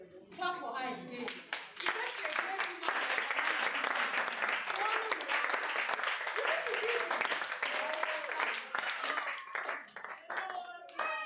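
Audience applauding and clapping at a Women Techmakers International Women's Day event in Onitsha, dense and steady for several seconds, with children's and adults' voices talking and calling over it.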